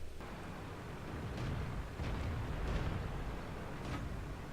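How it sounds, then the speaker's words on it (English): Tank cannon fire in a tank combat video game: dull, low booms rumble through a steady background of engine and battle noise, with a few muffled impacts spread across the stretch and no clear sharp report. "He gets taken out by the Borsig with a nice shot to his side"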